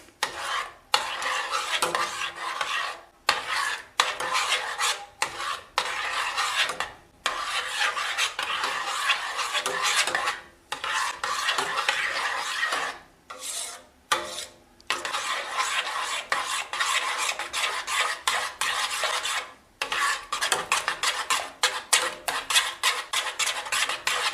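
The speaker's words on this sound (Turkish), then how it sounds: "Kremamızı boşalttıktan sonra Güzelce karıştırıyoruz muhallebimizi tekrar." Vigorous, continuous scraping and swishing of a utensil stirring cream into muhallebi pudding in a pot, rhythmic strokes with brief pauses, close and loud, with no voices.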